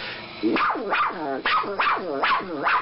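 A voice actor imitates a cartoon female dog, giving a run of four or five close, loud, evenly spaced barks with rising and falling pitch.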